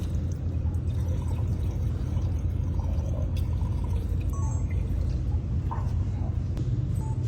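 Water pouring steadily into the reservoir of a mold-repair laser welding machine, a continuous close splashing flow with light dripping that runs unbroken throughout.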